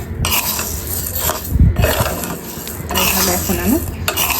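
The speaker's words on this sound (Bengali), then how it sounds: "নেড়ে চেড়ে সব কিছু ভেজে নেব খিচুড়িতে দিব এই জন্য আলুটা ভেজে নিচ্ছি" Potatoes frying in a pan for khichuri, stirred with scraping utensil clatter over a steady sizzle, loud and close, with a brief cough in the middle.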